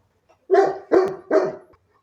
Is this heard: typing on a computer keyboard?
no